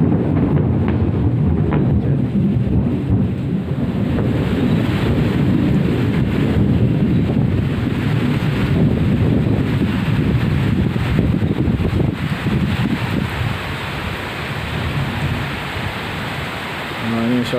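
Steady heavy rain pours at Tasek Gelugor train terminal in Penang with a dense, rushing hiss, with wind rumbling over the microphone throughout; no voices.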